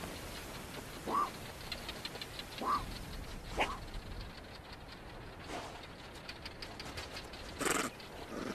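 Cape fox pups bark from deep inside an underground den, a few short, muffled calls spaced a second or so apart over a steady, hissy background.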